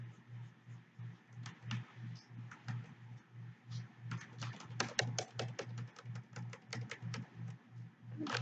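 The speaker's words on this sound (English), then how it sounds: "My keyboard's also super loud." Loud, rapid clattering of computer keyboard keys, bursts of sharp clicks over a steady low hum, continuing without pause.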